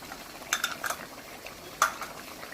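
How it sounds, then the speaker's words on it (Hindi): A spoon scrapes and clinks against a pan while spices are stirred into chicken curry, with a cluster of close metallic knocks followed by one sharper clank and a faint sizzle underneath. "अच्छे से मिक्स करेंगे।"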